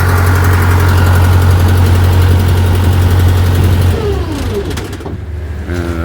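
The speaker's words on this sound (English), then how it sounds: "Maybe I should shut off that reefer, huh?" A refrigeration unit on a truck trailer drones in a loud, steady low hum close by, then settles into a softer engine rumble with faint squeaks and rattles.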